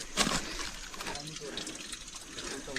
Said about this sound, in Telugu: ఇక్కడ వాటర్ సౌండ్ వస్తుంది కానీ ఎక్కడి నుంచి వస్తున్నా ఎగ్జాక్ట్ క్లారిటీ లేదు